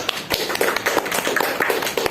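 Classroom applause during a microteaching lesson, a short burst of sharp, fairly quick hand claps from a small group, close and moderately loud.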